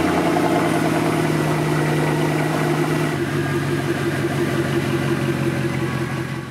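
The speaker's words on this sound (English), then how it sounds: "So let's start the car up and head out." A Mercedes C63 AMG with its M156 V8 idles steadily nearby after being started, a smooth low rumble that settles into a slightly lower, even tone partway through, with no talking.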